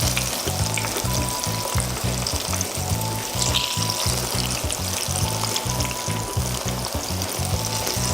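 Plantains fry in a pan with a loud, constant sizzle and crackle. Under it sits a low repeating rhythmic thumping.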